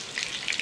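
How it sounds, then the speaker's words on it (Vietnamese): Minced garlic and ginger frying in unsalted butter in a pan, a steady close sizzle with small crackling pops, heard alone. "Xào cho gừng và tỏi nó thơm."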